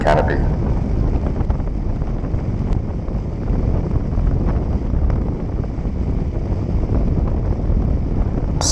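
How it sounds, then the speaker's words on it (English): Steady rushing wind from the open canopy of an RC T-28 Trojan model plane during a long gliding descent, loud and continuous with a dense broadband roar and no other sounds over it. "listen to the wind in the open canopy"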